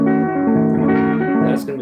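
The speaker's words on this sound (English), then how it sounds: "minor 7 flat 5 sounds like this." A minor 7 flat 5 chord rings out as one sustained voicing, its notes shifting slightly over under two seconds before decaying, close and fairly loud.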